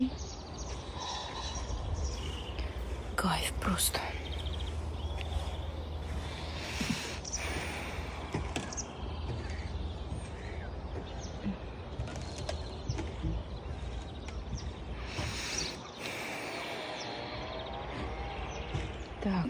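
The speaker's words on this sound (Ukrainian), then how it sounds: "Співають пташки." Songbirds chirp and call outdoors near a river on a warm spring day, with scattered bird calls throughout over steady background ambience; a person briefly speaks.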